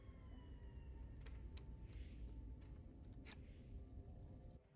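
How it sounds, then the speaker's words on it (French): Siren cry from a creature in the underwater game Subnautica, a faint high wailing tone drifting over a low rumbling ambient bed with scattered clicks, no voices. "Et puis c'est cri de sirène"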